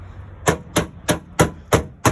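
A hammer strikes metal armour guards in a steady rhythm, rolling their edges, six sharp close blows about a third of a second apart, with no voices.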